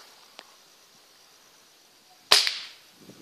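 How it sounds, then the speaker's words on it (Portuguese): A single sharp hunting rifle shot cracks out in an otherwise quiet outdoor setting in Candelária, Rio Grande do Sul, Brazil, preceded by a faint click and followed by a brief fading tail. "Pá, eu vi esse tiro."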